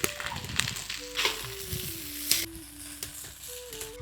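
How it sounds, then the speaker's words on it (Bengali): Chowmein noodles stir-fried with vegetables hiss and crackle in a pan, with repeated scraping strokes of a spatula against the metal, close and steady over a few seconds. "এখন চাউমিন দিয়ে দিচ্ছি।"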